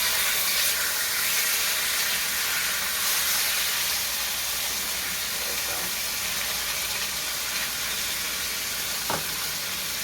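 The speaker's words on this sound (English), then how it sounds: "So the recipe says to sear this on very high heat for 3 to 4 minutes." Steak sears on very high heat in a large skillet, giving a loud, continuous broadband sizzle and hiss that holds steady from start to finish.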